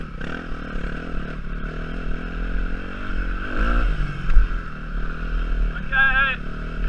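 A dirt bike engine revs during a wheelie lesson, a steady close drone that swells around the lift and eases off again, with a person speaking over it.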